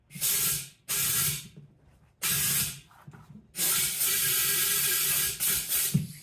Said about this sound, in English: With the nozzle, you can just stick it right on and it'll get a ton of air in there.